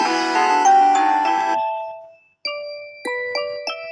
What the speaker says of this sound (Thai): อันนี้เสียงเปียโนทุกคน